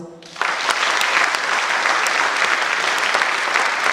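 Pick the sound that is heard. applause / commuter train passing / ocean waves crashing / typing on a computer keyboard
applause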